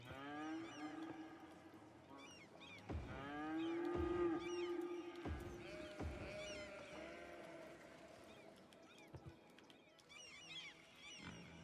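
Cattle mooing in the Cities Skylines video game: a long, low, drawn-out moo swelling in the middle, with a second lowing call and faint chatter-like game ambience around it, fairly quiet overall.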